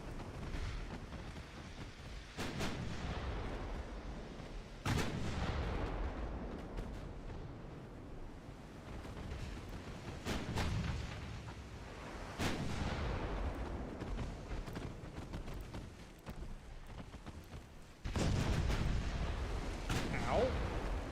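Armor-piercing artillery rounds fire in The Forge of Freedom video game, several heavy booms spaced a few seconds apart over a constant rumbling background, with a voice talking between the shots.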